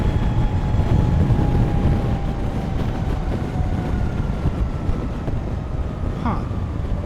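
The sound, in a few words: Harley-Davidson LiveWire electric motorcycle accelerating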